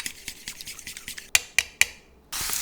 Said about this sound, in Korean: 계란 3개는 곱게 풀어주고